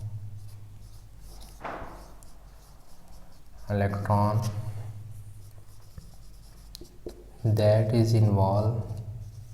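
Pen or marker scratches steadily across a writing surface during a chemistry lesson, with a teacher talking over much of it in bursts.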